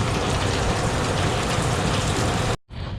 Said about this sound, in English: I guess the one thing I didn't really anticipate was raining, because I'm soaked right now